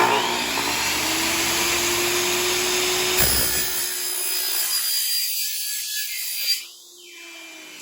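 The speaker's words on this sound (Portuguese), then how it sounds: "liga a serra." An electric saw cuts aluminium profile for a door, a loud steady whine running for about three seconds before the motor winds down and the blade slows, with a brief rising burst near the end.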